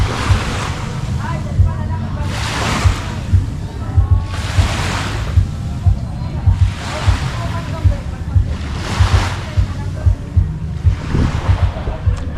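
Ocean waves roll in at a beach resort on Samal Island near Davao City, surging and washing back in a steady rhythm of about five swells, mixed with wind buffeting the microphone.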